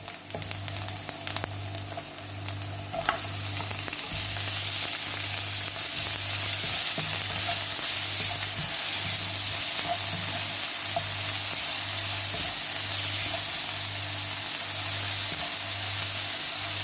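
Chopped onion frying in a pan for veg momos filling, a steady loud sizzle that swells after a few seconds and continues evenly, with a low periodic hum underneath and no talking.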